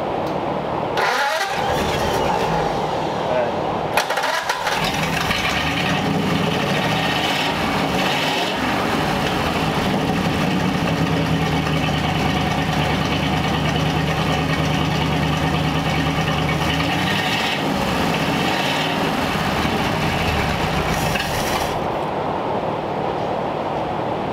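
A 1934 Ford Coupe engine, revived after sixty years of storage, runs steadily and loud throughout, settling into a rough, continuous idle with brief dips in rhythm and no talk over it.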